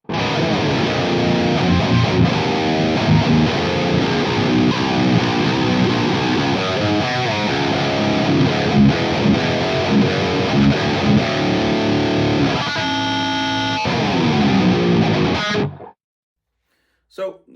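Electric guitar played through a distorted, dirty amp model on a Quad Cortex into an impulse response, a loud, continuous crunchy riff with chords and single notes that cuts off abruptly near the end.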